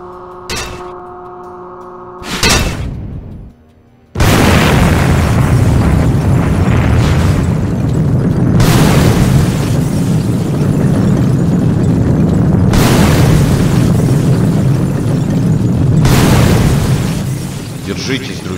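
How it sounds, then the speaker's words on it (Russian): A huge explosion in a FNAF SFM animation bursts in loud after a few sharp pops, then roars on as a sustained, rumbling blast that surges again several times before fading near the end. "Надо взорвать тут все прямо сейчас."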